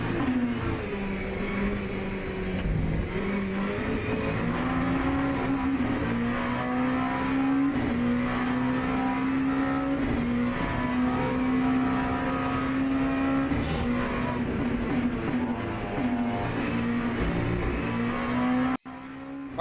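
A race car engine in the Le Mans Ultimate sim racing game drones loud and close, holding a steady high-revving tone with gentle pitch shifts through gears and corners, uninterrupted by talk until a brief dropout near the end.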